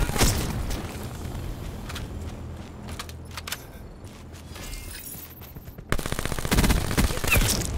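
Rapid bursts of heavy automatic launcher fire from the War Machine in Call of Duty Black Ops 4 multiplayer, dense crackling volleys that thin out briefly before a loud, sustained barrage returns near the end.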